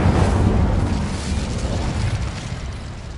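Incendio fire spell cast in the video game Hogwarts Legacy, a loud, steady roaring whoosh of flame that stays dense and powerful before easing off slightly toward the end.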